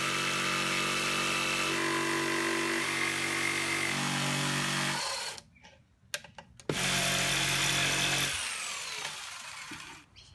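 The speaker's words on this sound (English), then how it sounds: "which is actually what we do have on this jigsaw, so that you can cut straight through the screws or nails that hold the box together" Jigsaw fitted with a metal-cutting blade sawing through a wooden Langstroth hive box, a loud buzzing cut that stops mid-clip, leaves a brief gap with a few clicks, then restarts and winds down.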